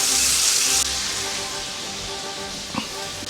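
Bacon fries in a pan with a steady close hiss and sizzle. A louder burst opens it, then it settles to a softer crackling backdrop with a brief clatter near the end.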